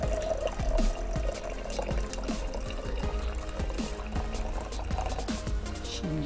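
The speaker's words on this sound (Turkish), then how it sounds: "Şimdi buraya birazcık sıcak su ekliyorum." Hot water pours from a kettle in a steady close trickle with gurgling, bubbling drips, filling a container while a faint room hum sits underneath.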